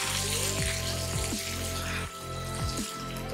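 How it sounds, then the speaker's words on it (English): Onions soften in a covered pan over high heat, part of a spicy Bengali-style mashed potato dish, giving a constant dense steaming hiss with faint wavering whistle-like tones, close and steady throughout. "let it cook for a couple of minutes so it steams and softens the onions a bit"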